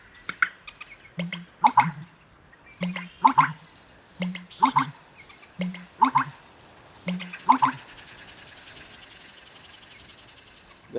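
A marsh bird in Mississippi gives a series of hollow, gulping calls, like water being swallowed, repeating about every second and a half at moderate distance over a steady background of high insect or bird chirping.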